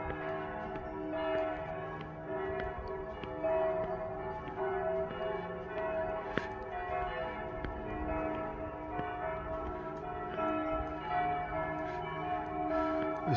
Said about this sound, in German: Die Kirchenglocken sind schön am Läuten.